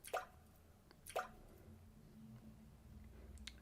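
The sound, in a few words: water drops dripping, echoing, in a video game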